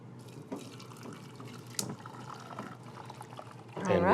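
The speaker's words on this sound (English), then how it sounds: "Now that the cauliflower is done, we're gonna strain the milk." Milk strained off cooked cauliflower, a soft steady trickle and drip of liquid with a louder pouring rush near the end.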